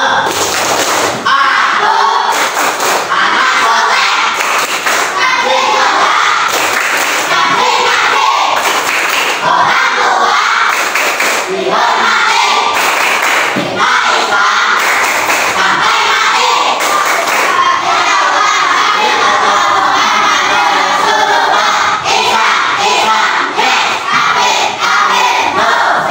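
A classroom of children chanting a rhythmic clapping cheer about prayer, with loud shouted group voices, repeated sharp claps and thumps keeping the beat throughout.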